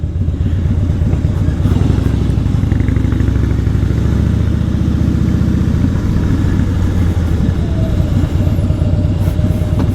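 A Harley-Davidson Fat Boy motorcycle engine rumbles steadily at close range with a deep, throbbing exhaust note and slight clatter, continuous throughout.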